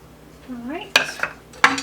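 Apples with lemon juice stirred in a bowl, with a few sharp clinks and scrapes of a utensil against the dish after a brief murmur of voice.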